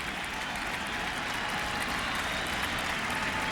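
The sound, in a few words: baseball stadium crowd cheering for pitcher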